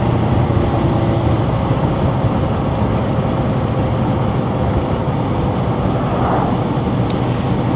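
A Royal Enfield Scram 411 motorcycle's single-cylinder engine pulls at about 40 mph in fourth gear as the throttle opens, a steady close drone mixed with wind rush and no speech.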